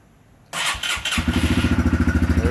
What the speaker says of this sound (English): the final test is to start it, see if it works